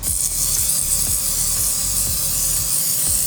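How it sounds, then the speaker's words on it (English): Close, steady hiss of a hand-pumped oil mist sprayer misting continuously, with faint rhythmic pumping clicks underneath. "And then you just pump this up, and then you can spray your stuff."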